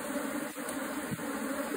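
Africanized honeybees droning at a hive, a steady, even buzz filling the brief moment without pause or voices.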